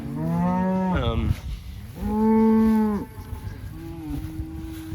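Several cattle from a cow/calf herd moo in long, drawn-out calls close by on a pasture of woody Sericea lespedeza, two big calls and a softer third overlapping, with no talk.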